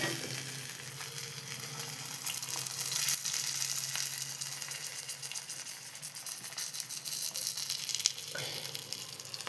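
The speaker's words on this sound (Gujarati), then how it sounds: "તો ચાલો આપણે ફ્રાય બતાવું" Fish frying in a pan, a steady close sizzle and crackle of hot oil lasting throughout, with occasional soft stirring sounds and no voices.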